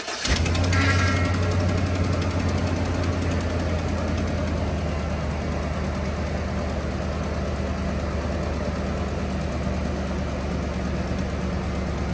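Small blue pickup truck engine cranks and catches, then settles into a steady, loud low-pitched idle that runs on unbroken with a faint rattle, no voices.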